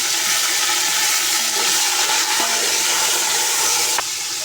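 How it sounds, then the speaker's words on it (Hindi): Water splashed into hot ghee with onions while cooking a mixed vegetable pulao, giving a steady loud hiss and sizzle that fills the clip, with a sharp crackle near the end. "अब इसके अंदर हम पानी का छींटा ऐड करेंगे थोड़ा सा।"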